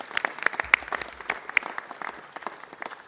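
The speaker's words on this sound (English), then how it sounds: "Let's give them all a big round of applause." An audience at a city council meeting applauds, with scattered individual claps rising out of a moderate, steady patter that carries through the whole moment without speech.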